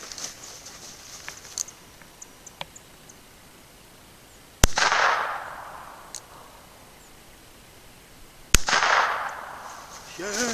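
Two sharp Derringer pistol shots aimed at a rolling steel target, each a loud crack followed by a decaying echo and ringing, spaced about four seconds apart over quiet outdoor background.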